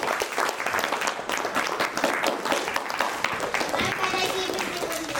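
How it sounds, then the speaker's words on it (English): Audience applause at a literature festival for child authors, held in a hall: steady, dense clapping from many hands, sustained and fairly loud across the whole stretch with no talk over it. "Can we clap for him?"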